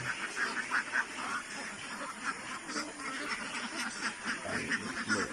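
Pateros ducks (itik) quack repeatedly in a dense, overlapping flock chorus, moderately loud and close, with steady rustling background noise and no clear talk.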